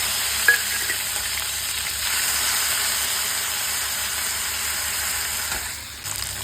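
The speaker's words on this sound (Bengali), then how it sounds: "আমি পেঁয়াজ দিয়ে দিলাম, পেঁয়াজগুলো একটু ফ্রাই হবে" Prawns and onions sizzle steadily in a hot pan for a Bengali prawn malaikari, a continuous close, loud frying hiss with a faint clink near the start and no talk.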